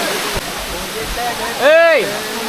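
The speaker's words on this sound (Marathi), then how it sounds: "धबधबा बघा एक नंबर" A steady roar of rushing, falling water from a waterfall at Kasmal fills the clip, with a brief rising and falling voice-like tone near the end.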